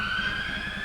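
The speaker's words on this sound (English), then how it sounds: "the siren signals the end of a first period" A hockey arena's horn-like siren marks the end of the first period, a steady sustained tone filling the rink, fairly faint and heard alone without talk.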